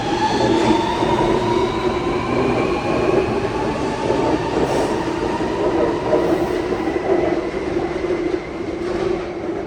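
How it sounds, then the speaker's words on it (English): A Sydney Metro train pulls out of Chatswood station, its steady loud rumble and wheel noise filling the platform, with a rising motor whine and rail clatter that fades slightly toward the end. "We'll just film this metro train leave."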